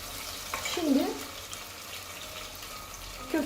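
Soft sizzling of carrots and potatoes frying in a pot, with a couple of brief scraping sounds and a faint voice in the background.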